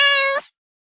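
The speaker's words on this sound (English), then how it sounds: "A cat mews." A single cat meow, clear and close, with a steady rising tone lasting under half a second before ending abruptly into silence.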